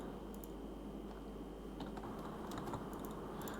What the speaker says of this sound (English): Let's type it in. Let's type it in there.